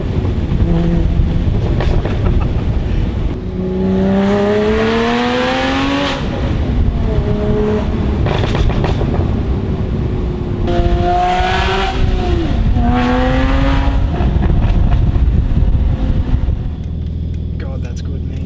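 A Porsche Boxster Spyder engine accelerates through several rising pulls with gear changes between them, loud and close from inside the car, under steady road and wind roar.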